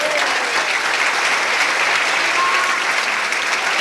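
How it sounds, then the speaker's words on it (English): Steady, dense audience applause at a Missouri gay pageant, a sustained wash of clapping from a large crowd with no breaks, loud and even throughout. "Let's give them a round of applause."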